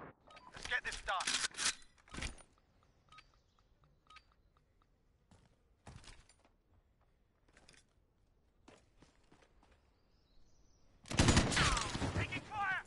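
Bursts of automatic gunfire in a team shooter video game, a loud opening barrage, scattered single shots through the middle and a heavy close burst near the end, with a voice talking in between.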